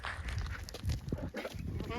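Goats bleat amid close, busy talk and shuffling movement, the animal calls partly buried under the voices at a fairly low overall level.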